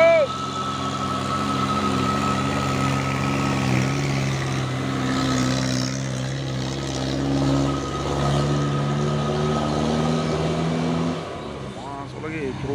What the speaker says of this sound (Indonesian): Masuk lagi truk Fuso ini ya.